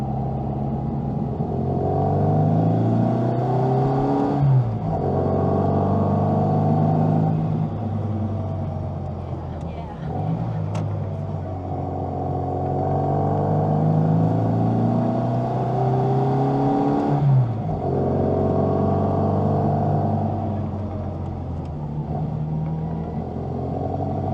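A classic Mini climbing a hill on the Mornington Peninsula, its small engine droning steadily with harmonic whine, pitch rising through gears with brief dips at each shift, heard from inside the car.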